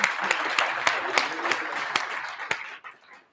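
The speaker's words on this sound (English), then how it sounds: "A round of applause for the Geology Club members." Audience applause at a geology lecture, a short burst of clapping from a modest crowd with distinct individual claps that dies away near the end.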